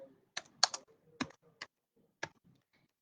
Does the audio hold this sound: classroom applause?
no